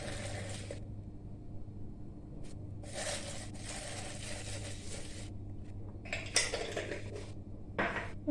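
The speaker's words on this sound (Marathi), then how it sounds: "आणि हे आता हलवून घेऊया" A spoon stirs a thick Marie biscuit kulfi mixture with cardamom powder in a pot, giving short bursts of scraping and light clinks separated by quiet pauses, close and with no talking.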